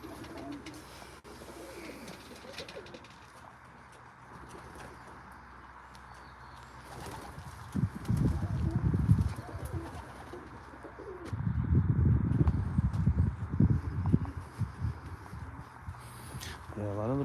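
Racing pigeons in a loft coo in low, throaty bursts that grow louder midway, with some wing flapping and someone speaking at times.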